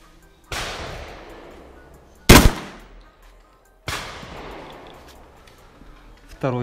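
Karat 12/70 slugs fired from an Ata Arms Neo 12 shotgun at a range target, four powerful booming reports a second or two apart, each sharp crack trailing off into a rolling echo, with brief silence between them.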